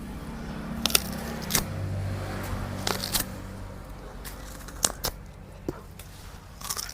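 A stalk of Juncao Napier grass is peeled by hand, giving several sharp, crisp snapping and tearing cracks at irregular intervals over a quiet outdoor background.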